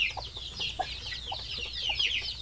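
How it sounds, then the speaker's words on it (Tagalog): Young chicks in a new nest on a Philippine backyard chicken farm, giving a continuous stream of high, overlapping peeps and cheeps, with a few soft clucks from nearby fowl and no talking. "meron tayong bagong pugad ng mga sisiw"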